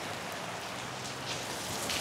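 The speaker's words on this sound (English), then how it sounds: "Oh, lovely rain." Steady rain falls outdoors on a wet grilling day, making a dense, even hiss with no pauses or voices.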